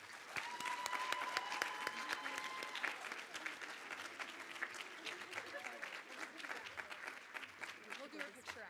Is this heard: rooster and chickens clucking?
no